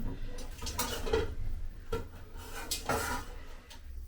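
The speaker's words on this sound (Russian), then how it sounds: "И курочку я сейчас быстренько переложу в кастрюльку, чтобы стояла в кастрюльке." Chicken being shifted into a pot in a home kitchen, with close irregular clatters and clinks of dishes and utensils plus scraping and rubbing sounds over a low background hum.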